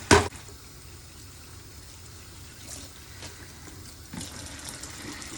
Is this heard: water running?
yes